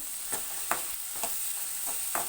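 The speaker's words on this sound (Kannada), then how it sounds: "ಈರುಳ್ಳಿ ಸ್ವಲ್ಪ ಚೆನ್ನಾಗಿ ಫ್ರೈ ಆಗೋವರೆಗೂ" Onions fry in a pan with a constant bright hiss, broken by a few soft stirring scrapes at irregular intervals, close and alone.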